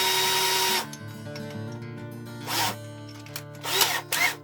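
A power drill countersinks a screw hole into wood for a champagne display cart, a loud close whine at the start, followed by shorter bursts with pauses in between.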